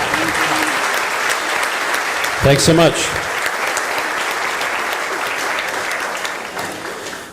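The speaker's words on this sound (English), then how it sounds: "Big round of applause" Sustained clapping from a crowd fills the whole stretch, steady and fairly loud, with a short spoken thank-you partway through.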